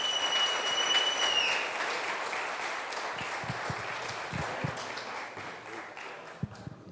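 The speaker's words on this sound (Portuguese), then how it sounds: "Então, com vocês, Silmar Cuca, vamos receber ele com uma salva de palmas." An audience applauds to welcome a speaker at an evening talk, a soft, continuous wash of many clapping hands that slowly thins out near the end.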